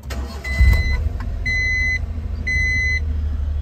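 A Honda Acty kei truck engine is started for the first time after an oil change and new spark plugs, then settles into a steady idle, with dashboard chimes beeping three times over the running motor.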